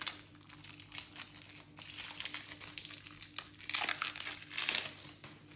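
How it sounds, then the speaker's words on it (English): Plastic wrap on a board game box being torn open by hand, a faint run of crinkling and tearing that swells into louder rips near the end, with no talking. "I can't find the tab, so I'm just going to rip into it."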